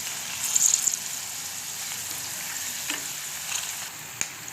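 Okra 65 deep-frying in hot oil gives a steady, close sizzle, with a few brief clinks and stirring taps from a utensil turning the pieces and no talking.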